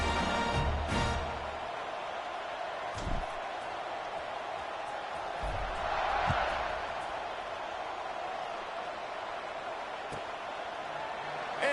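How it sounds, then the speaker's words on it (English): Stadium crowd at an American football game between ASU and LSU, a steady broad roar and buzz filling the whole stretch, with a few thumps and swells rising out of it. "this crowd is buzzing after that last score"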